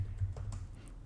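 Light, quiet keystrokes on a computer keyboard, a few soft taps spread over about a second against a low steady hum.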